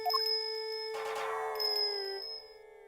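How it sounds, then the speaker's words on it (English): Ringing bells in the Ace Attorney Investigations video game: a couple of bright dings, then a louder cluster of chimes with a long, shimmering ring-out that fades away. "His appearance was always announced by the sound of bells."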